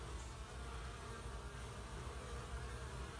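A busy honey bee colony living inside a mortar wall hums in a dense, continuous, close buzz of many bees, steady and unbroken.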